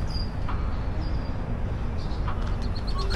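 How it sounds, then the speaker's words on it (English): Several small birds chirp and tweet in short bursts over a constant broadband background rush, fairly distant, with no talking. "You have lots of noise here of the birds, which is making it very peaceful."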